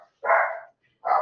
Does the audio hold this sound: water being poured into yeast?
no